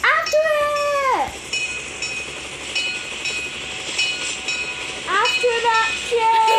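A train in the Roblox video game, a long whistle-like horn that sounds at the start and again near the end over a steady rumbling bed, with people talking throughout.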